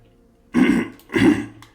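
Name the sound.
throat clearing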